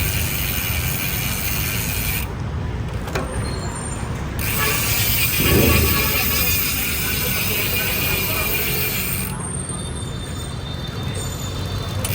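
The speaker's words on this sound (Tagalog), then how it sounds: "1151 na Sagmit cogs, Pops Pro 1 version 5 na hubs, kaya tunog mayaman na to" A bicycle freewheel with Pops Pro 1 v5 hubs and Sagmit cogs on a 2024 Sagmit Crazy Boost project bike clicks in a dense, rapid ratchet buzz that runs steadily and close throughout, with a brief louder swell midway.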